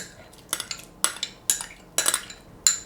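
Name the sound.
mixing strawberries into custard with a spoon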